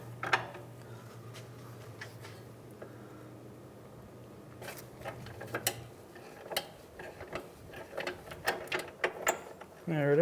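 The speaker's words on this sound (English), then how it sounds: "Now we should be able to remove that nut." A ratchet works a front sway bar link nut loose on a 2007-2015 Mazda CX-9, with irregular mechanical clicks and ratcheting bursts picking up in the second half over a quiet garage background.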